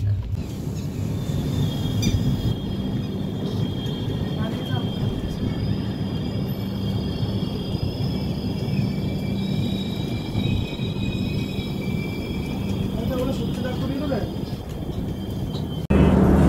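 A steady low rumble of a train standing outside Prayagraj Chheoki Junction, with a faint high whine running through it.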